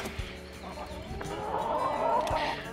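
Backyard chickens in a homemade coop cluck softly and steadily nearby while they are given treats of cabbage, seeds and vegetables, with the clucking rising a little toward the end.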